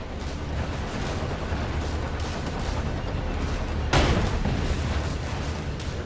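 A tank cannon fires in the video game Sand Land, one loud broadband blast partway through, standing out over a dense, continuous bed of game battle noise.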